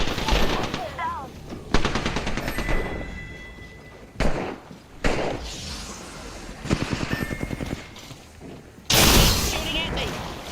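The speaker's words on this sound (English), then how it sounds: "Listen up, I'm getting shot at." Gunfire in the video game Apex Legends crackles in rapid automatic bursts and single shots, loud and close, repeating in clusters across the stretch while a player talks over it.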